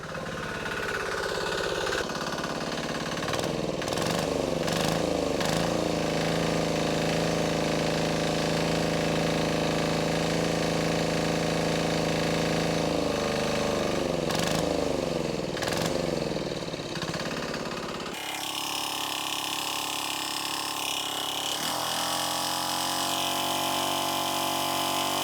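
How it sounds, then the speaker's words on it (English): A small diesel engine runs on olive oil as its fuel, producing a loud, close, continuous knocking drone. It revs and shifts pitch partway through, then its tone changes near the end. "we're gonna let this run until it burns all that fuel"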